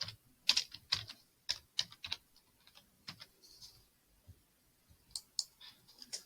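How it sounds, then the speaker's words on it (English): Close computer keyboard typing and mouse clicks while editing a production drawing for a wooden amplifier, in irregular bursts of sharp taps with short pauses between. "if you double click on this text and then change to your name"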